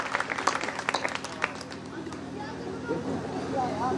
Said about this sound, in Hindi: बहुत एक बार जोरदार तालियां सारे लोगों को उठे शिवम भाई के लिए